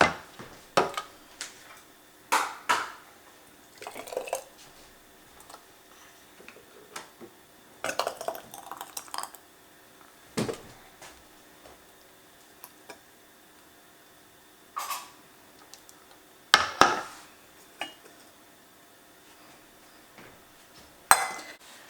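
A glass canning jar with its lid screwed finger tight is handled and set into a canner, giving a series of sharp clinks and knocks spread out with quiet gaps, fairly close and without talk.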